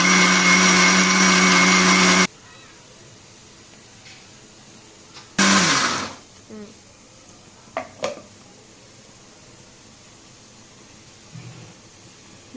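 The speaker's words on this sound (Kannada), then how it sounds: "ಗ್ರೈಂಡ್ ಮಾಡಬೇಕು." A kitchen mixer grinder whirs loudly for about two seconds, grinding peanut chutney with coriander leaves and water into a paste, then stops; a second short burst follows, along with clinks of the jar and utensils.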